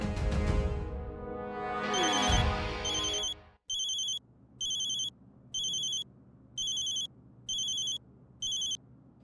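A phone rings in a home in repeated short electronic bursts, six evenly spaced rings following a stretch of music, loud and close with no voices over it.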